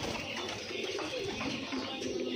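Free-ranging village pigeons coo in soft, repeated rolling calls, close and steady for a couple of seconds, with faint background rustle and no talking.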